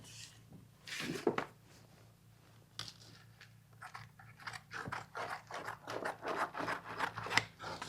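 Sheet metal being cut by hand for a 1957 Commer patina truck build, with a series of crunchy snips and scraping bites at an uneven rhythm, close but fairly quiet.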